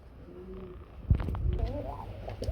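Soft cooing and rustling from pigeons kept in a cage at a pigeon farm, close by and fairly quiet, partly under someone talking.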